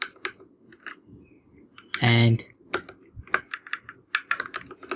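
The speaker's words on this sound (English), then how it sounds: "let's just start typing" Quick keystrokes on a computer keyboard while coding a web login page, scattered irregular taps with a louder burst midway, mixed with a speaking voice.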